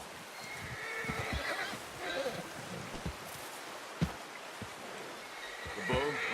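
A horse in the Red Dead Redemption II video game whinnies several times at close range, with hoof clip-clops and faint ambient rustle underneath.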